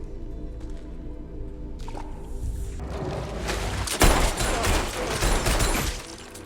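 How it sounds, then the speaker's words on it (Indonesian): Gunfire in an action film, with men shot while stepping through water, heard as a run of loud sharp cracks and thuds over splashy, liquid noise, building to the densest burst midway before easing off. "Hingga dengan sangat mudah Norman dapat menembak mereka bertiga."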